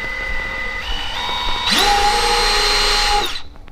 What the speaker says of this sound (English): We'll drill a pilot hole to start.